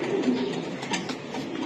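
Racing-breed pigeons coo softly in a short low burble near a cage, over a dull background murmur.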